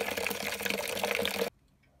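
Liquid runs through the grain bed of a brewery mash tun as a steady, close trickling rush for about a second and a half, then cuts off abruptly to near silence.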